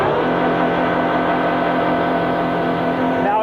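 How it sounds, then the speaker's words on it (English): A van engine roars at a steady high rev as a wire holds the gas pedal down, a loud sustained drone with a constant pitch that barely varies from start to finish. "And the engine is roaring, even though D'Amato never turned the cruise control button on."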